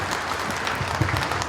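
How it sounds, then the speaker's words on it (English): Brief, steady applause from a symposium audience for a presenter, a soft wash of many hands clapping at moderate distance. "Please give applause to Fritz."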